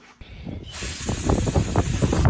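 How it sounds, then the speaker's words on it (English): A steady brake cleaner spray hisses on at close range and keeps going, broad and loud, with faint clattering underneath, while working on an RC car built from spare parts. "Are we just going to hit them with the brake cleaner?"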